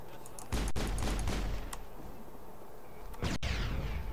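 In Mass Effect, a grenade goes off with a sharp burst, and then a second blast follows a few seconds later. Both are loud and close over a steady rumble of combat noise.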